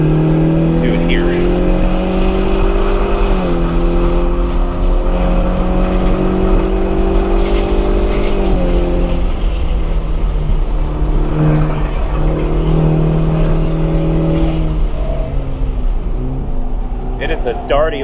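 A 2024 Ford Mustang EcoBoost with its turbocharged four-cylinder is driven hard around a race track, the engine note climbing and dropping through shifts as heard from the cabin, loud and continuous, with occasional tire noise and the driver talking over it.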